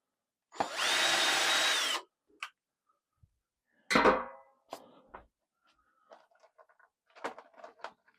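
A power drill bores into a small marked spot on a piece for a fiber studio build: one loud sustained whirring burst of about a second and a half, then scattered knocks and clatter of handling.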